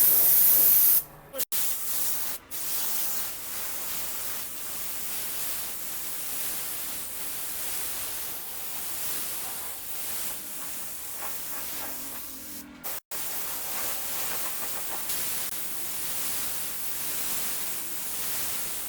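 A spray gun applying high spark silver paint onto Honda CG 125 motorcycle side covers makes a steady, loud hiss that runs almost continuously, broken by a few brief stops in the spraying.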